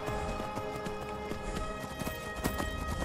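A horse gallops in the video game Skyrim VR, quick rhythmic hoofbeats thudding steadily and close over a soft background hum, with no talk.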